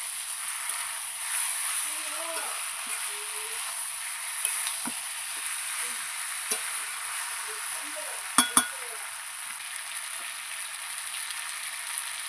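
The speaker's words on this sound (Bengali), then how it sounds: "আমি মাংসটাকে ভালোভাবে কষিয়ে নেব।" Marinated chicken being stir-fried for spicy kosha in a pan, a steady sizzle running throughout, with occasional spatula scrapes and a couple of sharp metallic clinks near the end, and faint speech underneath.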